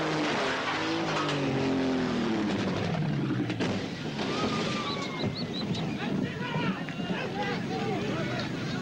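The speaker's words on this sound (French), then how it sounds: "elle va aborder le tremplin à 160 km à l'heure" A stunt car races at full speed toward a jump ramp, its engine a loud sustained roar with a falling pitch sweep early on, while a crowd and other noise fill the background throughout.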